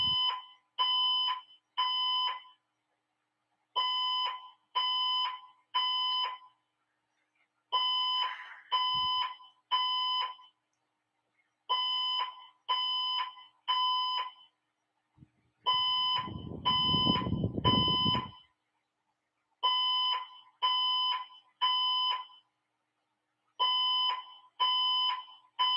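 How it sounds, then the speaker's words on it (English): An electronic alarm goes off in repeated bursts of three shrill, evenly spaced beeps separated by short pauses, loud and steady throughout, with a brief burst of noise in the middle and no talk. "Sorry about the alarm."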